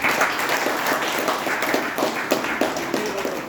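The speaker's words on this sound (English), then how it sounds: "Please give a big round of applause." A crowd claps steadily in a dense round of applause, many hands patting at once from a moderate distance.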